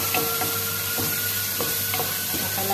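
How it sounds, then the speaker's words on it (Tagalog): Garlic fries in a pot for arroz caldo while browning, a steady loud hiss of oil with a few faint soft knocks repeating at irregular intervals, close and continuous with no talk. "Antayin natin siya mag-brown kunti yung bawang."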